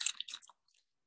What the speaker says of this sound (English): Zoe, are you eating some chips?